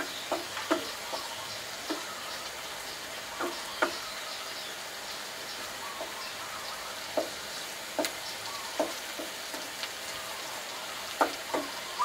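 Minced pork being stirred and fried in a pan for a papaya curry, a steady soft sizzle with scattered scraping clicks of the spatula, close and without speech.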